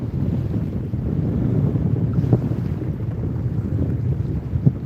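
Strong wind buffets a microphone outdoors at Lake Burton near Helen, Georgia, a loud continuous rumble with gusty surges and a few sharper knocks.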